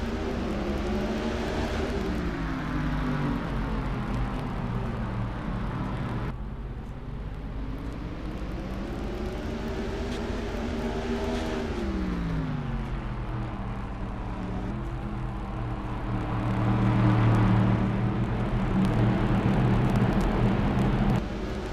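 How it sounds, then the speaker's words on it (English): Race cars roar around Martinsville in a stock car racing video game, a continuous engine drone with pitch sweeping up and down as cars accelerate and pass, steady and moderately loud with no talk. "We are racing here at Martinsville."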